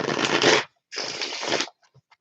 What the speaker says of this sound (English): I'm overhand shuffling